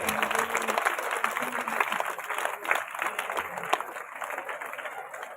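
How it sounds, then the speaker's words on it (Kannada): Loud, continuous applause from a crowd at a village yoga program in Kundgol, with dense clapping throughout and no pause. "ತಮ್ಮೆಲ್ಲರ ಜೋರಾದ ಚಪ್ಪಾಳೆ."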